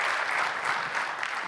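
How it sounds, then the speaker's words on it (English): An audience welcoming a presenter to the stage at a talk on deploying iOS 7, with steady, dense applause filling the room at even volume throughout. "I'd like if everybody could just give him a round of applause"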